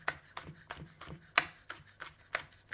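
A knife chops a red chilli on a cutting board in steady, close rhythmic taps, about three per second, with no talk.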